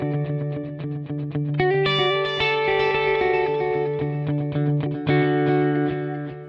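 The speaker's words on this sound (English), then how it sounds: "all used around about a 400 millisecond delay, which is a classic sort of dotted eighth note delay around that sort of tempo." Electric guitar riff run through a roughly 400 millisecond dotted eighth note delay, with a dense wash of echoing repeats over a steady low drone, loud and sustained.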